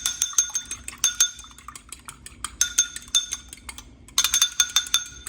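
Egg beaten in a bowl in a home kitchen during pumpkin creme pie prep, quick irregular clinks and scraping taps of a utensil against the bowl in bursts with brief pauses, close and fairly clear.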